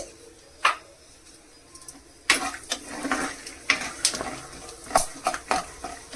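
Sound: peanuts being roasted and stirred in a pan

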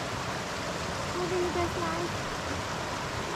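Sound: river flowing

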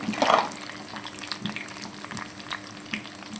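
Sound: curry leaves frying in hot oil for wheat rava pongal

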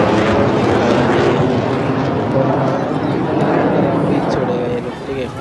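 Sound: fighter jets flying over Chennai Marina Beach air show

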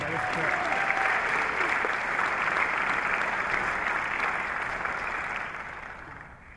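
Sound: audience applause for a show band flutist

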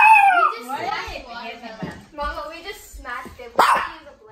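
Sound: dog barking

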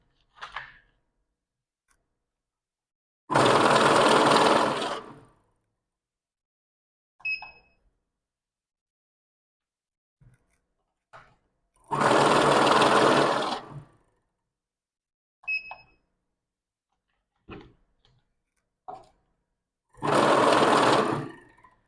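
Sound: NanoCash MINI banknote counter counting banknotes

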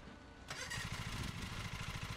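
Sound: lawn mower engine starting in Lawn Mowing Simulator video game

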